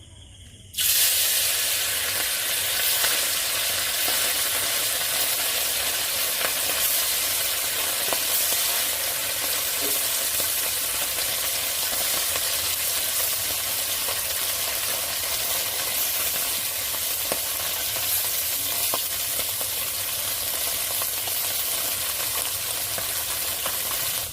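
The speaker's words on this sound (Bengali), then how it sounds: "এবার মাছগুলো আমি ভেজে নেবো" Parse fish from the Matla river, coated in spice powder, fry in hot oil in a kadai, giving a steady, loud, close sizzle that hisses evenly from start to finish with no talking.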